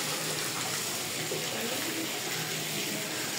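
Water pours steadily from a traditional stone water spout at a heritage square in Patan, Nepal, a continuous bright splashing gush that fills the whole stretch evenly.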